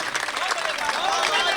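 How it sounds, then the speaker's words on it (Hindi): Mushaira audience at a poetry recital in Sanawad clapping steadily, a dense, even wash of applause that holds at the same level for its whole length. "मुझे एक मर्तबा जोरदार तालियों से आप एहसास दिला दीजिए"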